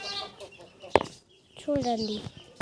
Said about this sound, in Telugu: అబ్రాస్ పుంజు.